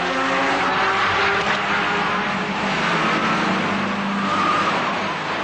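Race cars roar off the line at a rolling start behind a race director's car on a sunny circuit, including a Ligier, their engines forming a loud, continuous mixed drone with a faint tire squeal and no talk.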